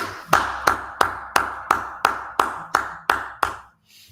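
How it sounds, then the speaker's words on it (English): About ten sharp, evenly spaced claps ring out close and loud, each with a short echo, in a steady rhythm that stops abruptly, from a group clapping hands together in unison at a school gathering. "Let's go ahead, clap it up."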